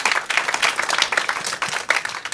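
A comedy club audience claps loudly and densely for a comedian's police academy graduation, with no break in the applause.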